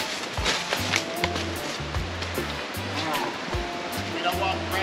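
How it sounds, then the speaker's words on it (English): River water rushing over rocks in Jamaica, a steady broad wash with intermittent low thumps and splashes, fairly close and moderately loud. "it's another river again"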